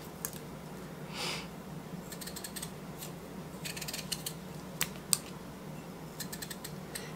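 A knife cutting peppers into quarters on a board, a faint scatter of crisp slicing clicks and taps spread across the clip over a low background hum.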